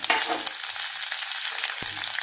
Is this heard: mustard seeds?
yes